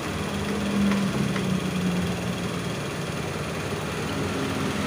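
A carbureted Honda Vario motorcycle engine runs close by, a steady loud idle that swells slightly as the throttle is blipped, with a low continuous hum throughout.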